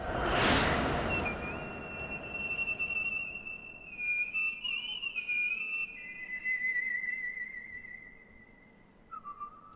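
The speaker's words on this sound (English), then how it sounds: "Here comes the very loud whistling." Very loud, sustained whistling in the game Asura's Wrath, one long shrill tone that wavers and shifts pitch several times, rising over a loud opening burst and carrying on alone to the end.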